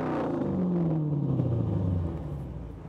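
Car engine revving loudly on a street during a police noise measurement for illegal street racing in Cologne, a deep rumbling roar whose pitch falls steadily as the revs drop, close by with no talk.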